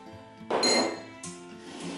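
A saucepan clinks as sugar and water are added for a syrup, one sharp metallic ring followed by a softer second clink, close and distinct in an otherwise quiet kitchen.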